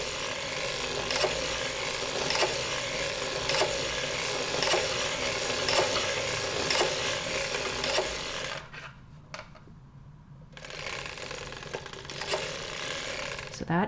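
A circular sock knitting machine cranked round while knitting a sock: a close, steady mechanical clatter and ticking with regular clicks, a brief near-silent pause, then the clatter resumes.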